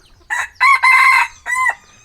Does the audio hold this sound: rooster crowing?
yes